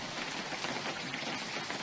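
Rain falls in the survival video game Unturned, a dense, even hiss of drops filling the scene steadily and fairly loudly with no other sounds.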